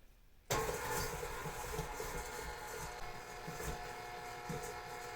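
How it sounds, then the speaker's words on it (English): An electric mixer starts abruptly and whirs steadily through peanut butter cookie dough made with white and brown sugar, a close, continuous motor drone with no talk. "I'm going to go ahead and get the mixer started here."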